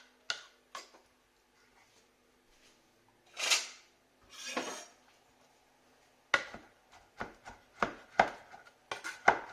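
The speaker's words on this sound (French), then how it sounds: "je vais couper mes champignons et je vais ensuite les hacher" A knife chops mushrooms on a board for duxelles in sharp, distinct strikes: a few isolated cuts, two longer scraping strokes, then a quicker run of close chops near the end, with no talk.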